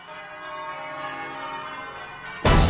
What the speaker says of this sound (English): Be proud of your ringing, a magnificent sound.